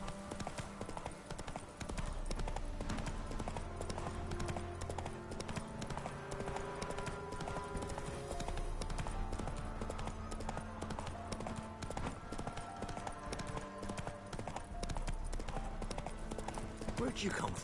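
In Witcher 3, the horse Roach trots with steady rhythmic clip-clopping hooves, carried along under a continuous bed of game music and ambience for the whole stretch.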